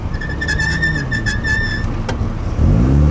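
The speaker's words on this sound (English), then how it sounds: "squeaky brakes" A high, sustained brake squeal from a 1960 Austin-Healey Bugeye Sprite holds a steady whine for nearly two seconds over a low engine rumble, followed by a brief sharp chirp.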